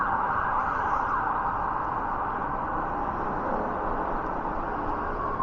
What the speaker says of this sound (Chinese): 是一辆救护车，你看啊，大家都非常自觉地让道